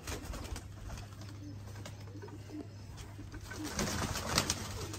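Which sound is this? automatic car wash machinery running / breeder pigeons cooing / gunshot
breeder pigeons cooing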